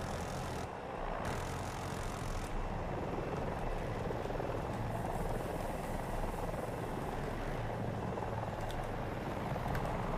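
A Super-Hind transport helicopter in the Battlefield 2042 video game flies on, its rotor and engine roar steady and loud throughout, with no voices heard.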